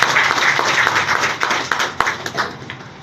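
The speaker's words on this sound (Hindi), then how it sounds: "तो सब आपने तालियां बताइए।" A crowd claps steadily in sustained applause, dense and fairly loud, gradually tapering off toward the end.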